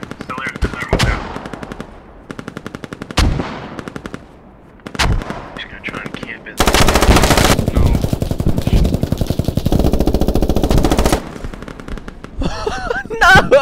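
Machine gun fire rings out in the tactical shooter Squad. Loud, sharp bursts of rapid shots come first, then a long sustained volley of automatic fire, then a few final shots.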